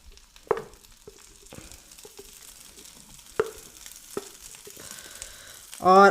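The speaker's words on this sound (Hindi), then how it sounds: "आलू को ऐड करने के बाद हम इसकी अच्छे से करेंगे भुनाई ताकि आलू का जितना भी मॉइस्चर है वो ख़त्म हो जाए" Mashed potato stirred and roasted with turmeric and spices in a pan, giving a low steady sizzle broken by a few sharp spoon scrapes and knocks, with a brief tonal squeak near the end; no talking.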